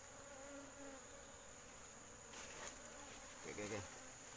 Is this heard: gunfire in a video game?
no